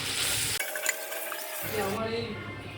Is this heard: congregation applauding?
no